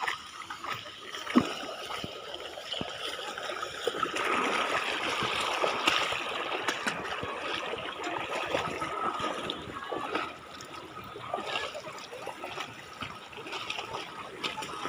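Water rushes and burbles steadily, a moderate flowing stream close by at a dam, with faint background noise and a few soft knocks.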